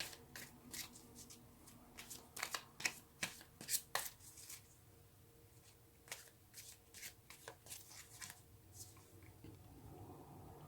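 Tarot cards are shuffled close by in quiet bursts of rapid riffling and slapping, with short pauses between runs.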